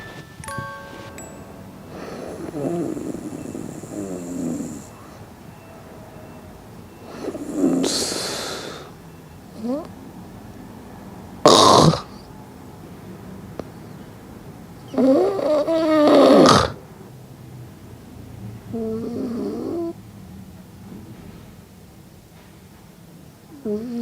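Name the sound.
person snoring while asleep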